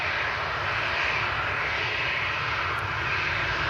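A steady, loud roar of a TUI Boeing Dreamliner jet's engines as it rolls onto the active runway at Manchester Airport, a continuous broadband rumble with no breaks.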